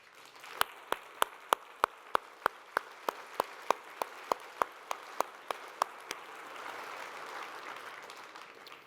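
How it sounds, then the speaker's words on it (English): Audience clapping at an exit planning awards summit comes as a series of sharp, evenly spaced claps in a steady rhythm for about six seconds. It then gives way to a soft murmur of room noise. "please stand up so we can give applause."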